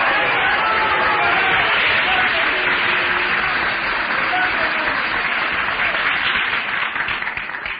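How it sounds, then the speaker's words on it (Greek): A large audience in a church hall claps loudly and steadily, dense continuous applause that only starts to thin slightly toward the end. "αυτά τα χειροκροτήματά σας δεν είναι τυχαία"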